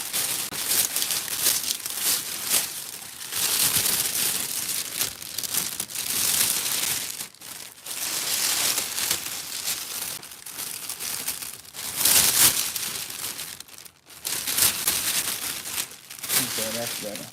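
Plastic gift basket bag is crinkled and handled while a Dollar Tree and Bath and Body Works Christmas basket is rewrapped, with continuous close crumpling and rustling in bursts throughout.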